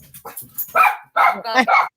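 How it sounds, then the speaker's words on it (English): A dog barks in several sharp, close bursts, with a short pause in the middle, and a faint voice or two underneath. "Which doggy's barking?"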